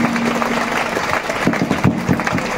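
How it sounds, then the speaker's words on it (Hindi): An audience claps loudly at a school prize ceremony for district-level competition exam results, a dense burst of many hands applauding close by with uneven sharper claps standing out near the end. "आप लोग जोरदार तालियों से सबका सम्मान करें।"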